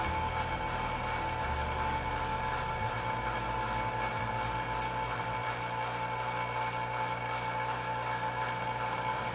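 A Vevor vacuum pump runs steadily while stabilizing wood, a continuous droning motor hum with a low rhythmic pulse and a faint steady whine, loud and unbroken throughout.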